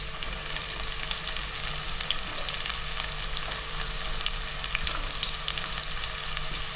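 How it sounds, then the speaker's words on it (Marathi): Two small onions frying in two bowls of oil, a steady close crackling sizzle with light stirring scrapes running throughout. "2 वाटी ऑइल. 2 कांदा टाकले."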